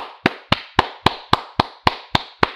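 Hands clap alone, close and loud, in nine sharp, evenly spaced claps at a steady rhythm with no talk.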